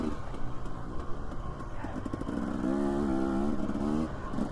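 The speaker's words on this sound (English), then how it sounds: "we're going for a little ride through the desert." Dirt bike engine riding through the desert, a steady mid-range drone that swells into a sustained, harmonic rev toward the end, close by and continuous with no talk over it.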